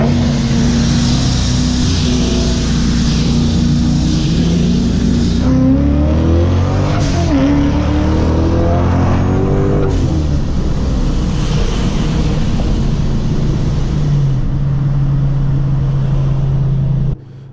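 A modified Ford Mustang accelerates hard in a street race against a Mazda 3 in Mexico, engine roaring loud and close with rising revs through several gear changes, steady and continuous.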